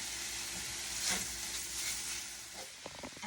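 Italian sausage frying in a skillet with onions, garlic and red pepper flakes, a steady close sizzle with light stirring and scraping near the end.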